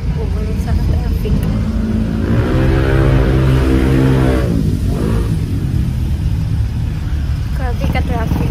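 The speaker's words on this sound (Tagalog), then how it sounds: "Grabe ka traffic." Heavy road traffic in Carmen, with car engines rumbling and one vehicle revving and accelerating nearby; a continuous loud low drone runs throughout while people talk.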